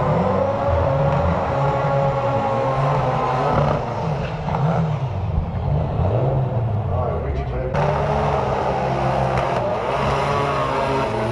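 Four-cylinder drag race cars launch and rev hard at a drag strip, with loud engine roars rising and falling while crowd noise and a commentator's voice carry through.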